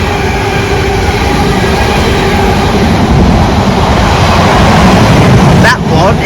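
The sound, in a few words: freight train passing through a station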